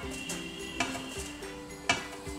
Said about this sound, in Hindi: गाजर को अच्छे से मिक्स करेंगे दूध में।